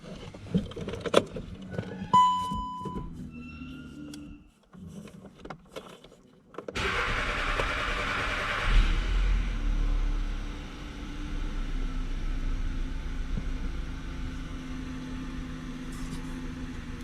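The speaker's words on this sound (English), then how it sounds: "Everything is installed, so now I can start the engine." Skoda Octavia Mk3 1.2 TSI engine being started after a fuel injector replacement: a burst of cranking catches into a steady idle hum that settles and continues, with no talking.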